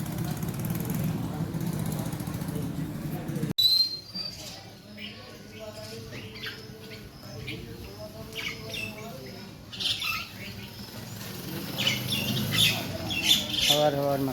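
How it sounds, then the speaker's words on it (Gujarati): Red-vented bulbuls at a small roadside shrine in a Gujarat village, giving repeated squawking chirps near and far amid outdoor background noise, with an abrupt shift in ambience partway through. "અહીંયા આવે છે બુલબુલ"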